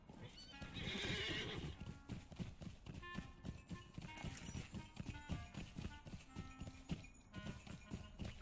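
A horse in the video game Lord of the Rings Online whinnies, then gallops with steady, rapid clip-clop hoofbeats, close and clear, with game music faint underneath.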